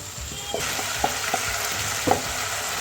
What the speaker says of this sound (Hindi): टमाटर जो है वो भी मैं थोड़ी देर के लिए भूनूंगी